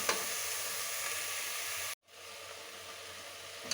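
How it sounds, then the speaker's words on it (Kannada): Steady loud sizzling of ground spices frying in a pan for potato and chickpea sambar, broken by a brief moment of silence midway before the hiss resumes, with no voices. "ಅಷ್ಟರೊಳಗೆ ಇದು ಕೂಡ ಇಷ್ಟು ಫ್ರೈ ಆಗ್ತಾ ಇದೆ"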